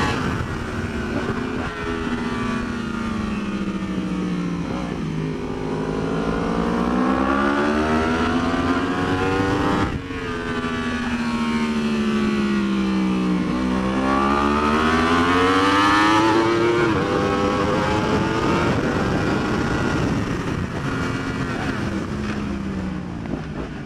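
A 2015-or-later Yamaha R1 superbike ridden hard around Ridge race track, its high-revving engine climbing and falling through gear changes, loud and close with heavy wind rush over the sustained howl.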